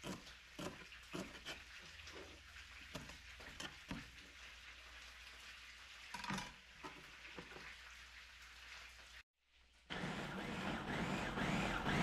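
Fish fries in a pan with a faint, steady crackle and sizzle that briefly cuts out before returning louder.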